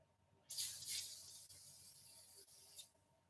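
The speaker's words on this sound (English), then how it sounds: "Nice generous spritz of starch." Starch is sprayed from a spray bottle onto quilting fabric in a soft, airy hiss lasting over two seconds, close but quiet, with a small puff near the end.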